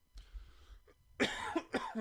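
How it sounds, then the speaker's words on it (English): Two sharp, close coughs in quick succession, preceded by a soft throat noise, with a brief pause between them. "Must be the night for coughs."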